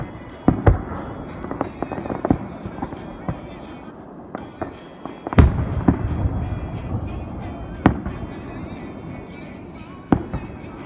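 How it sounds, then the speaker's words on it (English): Fourth of July fireworks show in Telluride, with sharp booms bursting at irregular intervals, some near and loud, over a steady background rumble and faint voices. "And here begins our fireworks show."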